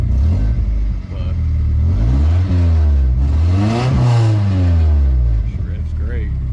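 Nissan 240SX engine revving hard in a series of rising and falling pulls, loud and close, with a slight sputter and occasional backfire from an iffy fuel injector.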